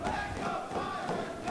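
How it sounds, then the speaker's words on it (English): Wrestling crowd at a 2007 independent show breaking into dueling chants for both wrestlers, a steady, loud, rhythmic wash of many voices filling the room throughout. "Dueling chants now for both men."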